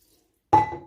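A spoon stirs lentils and minced meat in water in a cooking pot, giving one close wet clatter and slosh after a moment of silence.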